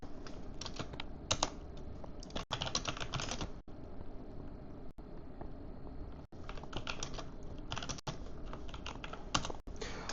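Rapid typing on a computer keyboard during a live game stream, steady clattering keystrokes in bursts with brief pauses and sharper single taps.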